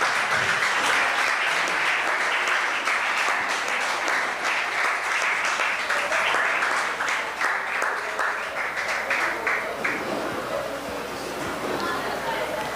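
An audience applauds two youth choirs, the Petits Chanteurs and the Chorale de l'Avenir, as they come forward at a singing contest. The broad, sustained clapping of a large crowd runs the whole time and softens slightly toward the end.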